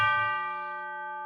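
Single struck tubular bell note from a stock Logic orchestral sample library, a bright metallic strike with long sustained ringing partials decaying slowly, heard alone and fairly loud.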